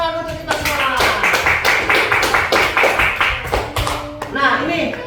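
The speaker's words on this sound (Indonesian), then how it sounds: "Tepuk tangan untuk kita semua." Children in an elementary school classroom clap together in a lively, steady burst, with voices mixed in and talk rising near the end.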